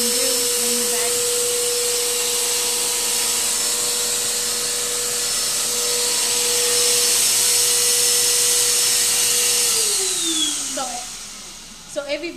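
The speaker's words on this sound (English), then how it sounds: "we can always vacuum the carpet by like getting under there and vacuuming" A carpet vacuum cleaner drones loudly and steadily, then powers down with a falling whine near the end, followed by a few clunks as it is handled.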